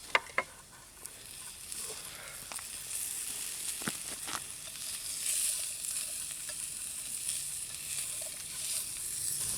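Pepperoni sizzling in a pan for a tomato-based pasta, a soft continuous crackling fry with a few sharp pops and clinks early on, close but fairly quiet, without speech.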